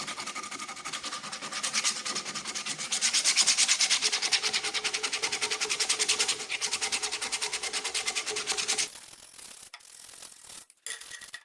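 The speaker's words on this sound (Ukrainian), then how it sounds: "Шліфуємо вручну." Steady rhythmic rasping of hand sanding on a wooden axe handle, close and continuous, strokes repeating quickly before stopping abruptly near the end.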